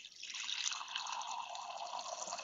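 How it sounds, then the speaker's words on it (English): Water pours steadily and continuously, a close, bright splashing stream with no pauses, heard alone over an online village board meeting connection. "who's pouring water?"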